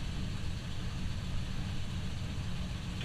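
A Kubota diesel engine drives the generator aboard a 1984 31-foot Tiara boat, giving a steady, loud low-pitched drone with no change in rhythm and no other sound.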